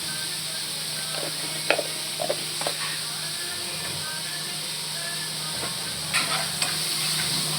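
Broccoli masala curry with turmeric stirred in a hot pan, with occasional spoon scrapes and knocks over a constant soft sizzle, close and unaccompanied by talk.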